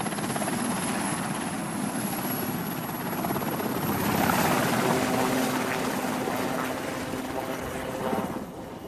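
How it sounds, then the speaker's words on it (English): A military helicopter comes in to land with a loud, continuous rotor thump and turbine whine that swells and holds steady close by, with no talk over it. "he lands before the helicopter."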